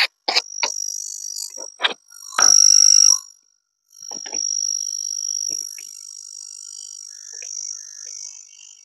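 An indoor electric insect killer gives off shrill electronic chirping and buzzing mosquito-repellent sounds, with sharp clicks and high steady tones, continuing close by without talk.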